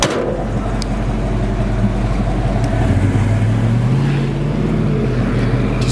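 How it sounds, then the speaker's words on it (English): A modified 351 V-8 with a two-barrel carburetor in a 1977 Ford F150 4x4 idles steadily, a loud, close, deep exhaust rumble that rises slightly in pitch midway, with no voices. "You can hear the exhaust. It's a 351 modified with a 2-barrel."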